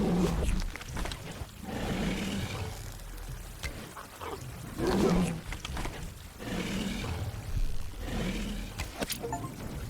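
A caiman attacks in a survival video game, giving low growling roars and splashing water in repeated surges, with a continuous murky rumble underneath.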